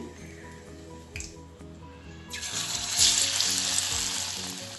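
Onion bhaji, batter-coated onion dropped into hot oil, with a quiet bubbling that swells into a brighter, louder sizzle partway through, alone without talk.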